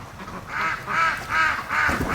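Several ducks, Muscovy ducks among them, quack in repeated bursts at a breeding flock, loud and fairly near, with about four clustered calls and no talking.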